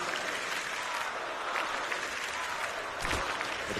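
A large crowd at a CS:GO esports grand final between SK and Astralis at BLAST Pro Series Copenhagen 2017 applauds and cheers in a continuous roar, with a slight swell near the end.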